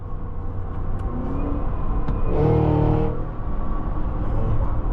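A supercharged Cadillac Escalade-V engine accelerating, a loud low rumble that swells into a brief surge of higher whine and roar around the middle, then settles back to a steady drone.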